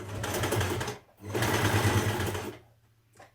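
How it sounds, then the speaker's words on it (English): Sewing machine stitching down a dress pleat, two loud bursts of rapid humming stitching separated by a short pause, then a faint tail at the end. "fold your pleat over so that it goes towards the centre like this, and then stitch it down to keep it in place"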